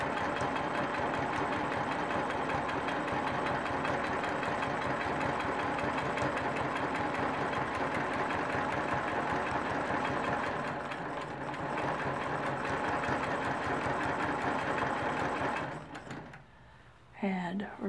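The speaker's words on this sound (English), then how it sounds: "So we're going to stitch around the diamond." A sewing machine stitches steadily around a diamond shape on a quilt block, a continuous close mechanical whir that runs for about sixteen seconds before stopping, with a few brief handling noises at the end.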